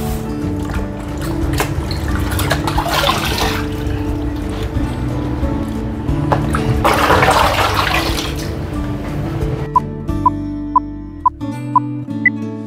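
Tap water runs steadily into a sink while tilapia is washed, a loud close gushing stream with swells of splashing, then the flow stops and a few sharp clinks and taps follow.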